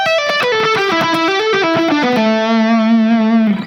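A fast minor pentatonic lick on distorted electric guitar: quick picked notes tumble downward for about two seconds, then settle on a long sustained low note with vibrato, loud and unaccompanied.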